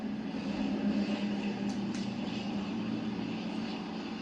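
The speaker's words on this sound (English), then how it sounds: "Allied photo reconnaissance aircraft swept over the beaches of northern France" A WWII Allied photo reconnaissance aircraft passes overhead, a steady faint engine drone with a brief higher whine partway through, heard alone.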